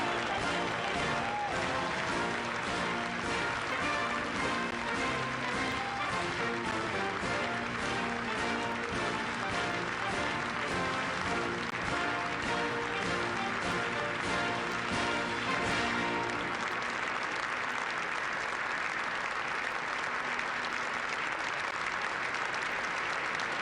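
Sustained, loud applause from a large crowd greets President Barack Obama and Mrs. Obama entering Statuary Hall for the 2009 inaugural luncheon, with dense clapping throughout and a band's music audible beneath it.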